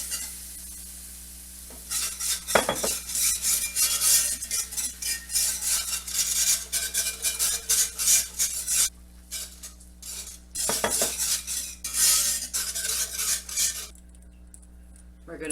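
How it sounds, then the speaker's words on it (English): Whisk scraping and stirring a sizzling sauce in a pan while milk is slowly added for a chicken thigh and cheesy potato dish, rhythmic metallic strokes with brief pauses over a steady sizzle. "We're going to whisk that in. Then slowly add our milk."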